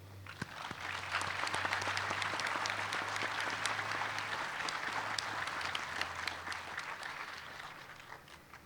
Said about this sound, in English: Please join me in a recognition applause.